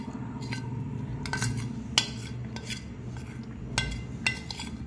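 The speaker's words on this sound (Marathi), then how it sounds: "आणि त्याच्यामध्ये आता हे बनवलेलं हे मिश्रण घालूया" Prepared batter for undas, a traditional Nag Panchami offering, going into a greased tin, heard as close clinks and scrapes of utensil against metal with a few sharper knocks, steady and fairly quiet with no talking.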